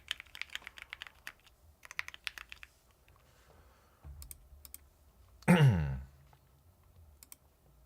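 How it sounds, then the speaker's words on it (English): Typing on a computer keyboard gives bursts of quick, crisp key clicks in uneven runs, close and fairly loud, with a sharper clatter partway through and a few scattered clicks near the end. No one speaks. "You like the noise the keyboard makes?"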